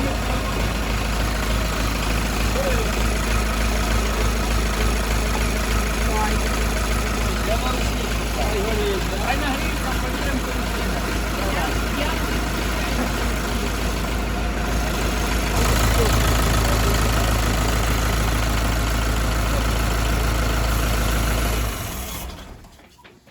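A Scout TE-504S tractor engine idles steadily at a low, rough throb, loud and close, for a long stretch, then shifts pitch slightly before cutting off near the end.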